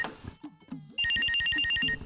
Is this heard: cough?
no